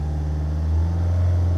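A Citroën C5 X7 2.0 HDi diesel engine accelerating, a steady low droning hum that rises slightly in pitch, close and loud, with no talk.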